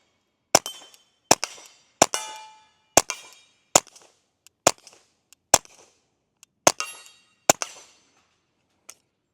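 Ruger Mark IV 22/45 Lite .22 pistol firing about a dozen sharp, loud shots at irregular intervals, each crack followed by a short ringing decay, with no talking.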